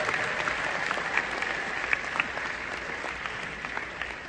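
A large audience claps together at a motivational talk, steady dense applause held evenly for several seconds before easing slightly at the end.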